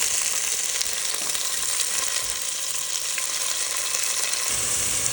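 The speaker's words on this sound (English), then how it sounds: "And we've got beef tallow, and we're just gonna sweat those down." Tomatoes, yellow onions and green onions sweat in beef tallow in a pan, a steady close hiss of frying that runs without pause, with no one talking.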